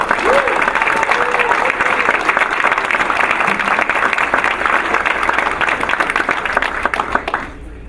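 At a school board of education meeting, a crowd breaks into sustained applause, a bright crackle of many hands that holds steady before tapering off, with a few voices calling out early on.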